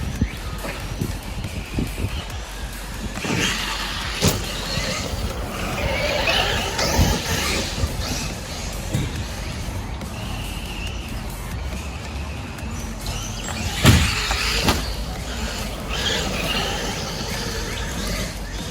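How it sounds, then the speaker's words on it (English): A Traxxas Maxx RC truck on its first run in a backyard, its motor whining steadily over outdoor noise with occasional knocks and thumps from bumps or landings. "Pretty fast little truck."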